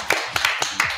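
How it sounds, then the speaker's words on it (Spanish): A few sharp hand claps greet a guest on a talk show, four quick, close claps spread unevenly across a brief moment. "Fuerte el aplauso"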